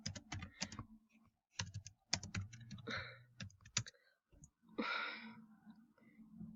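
Fast clattering bursts of typing on a computer keyboard sound up close, broken by short pauses, with a couple of sighs or breaths between the bursts.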